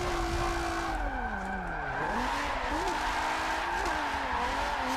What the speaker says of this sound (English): Some clutch kicks to keep the car sideways.